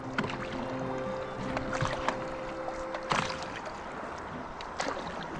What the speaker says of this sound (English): Keep paddling, you're doing good.